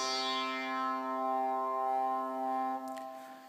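A sustained tone from the Magellan synthesizer app on iPad, rich in harmonics, with a bright swept attack that mellows as it holds, then fades after a brief click.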